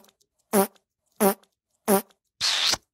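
Four fart sound effects play alone in silence: three short, even, buzzy blasts at regular intervals, then a longer, hissier, airy one to finish.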